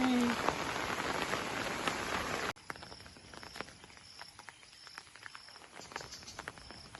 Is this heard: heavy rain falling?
yes